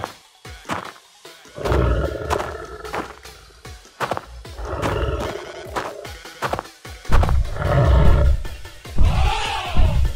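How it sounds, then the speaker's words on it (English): A tiger in a wild-animal fight scene gives repeated loud, close roars and snarls, mixed with crashing impacts and thuds, in bursts across the whole stretch. "Oh, this is a tiger."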